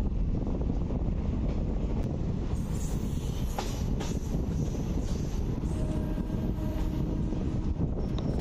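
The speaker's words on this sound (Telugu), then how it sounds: "గూడ్స్ వెళ్ళిపోయాక ఇప్పుడు ట్రైన్ అయితే మేడ్చల్ నుంచి డిపార్చర్" A DEMU passenger train on the Secunderabad–Siddipet route departing Medchal, steady rolling rumble from inside the moving carriage with wind buffeting and occasional faint wheel squeals and clicks.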